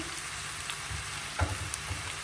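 Chopped onions frying in oil in a pan for Kayseri yağlaması, a steady soft sizzle with occasional stirring scrapes and small pops, close and quiet with no talk.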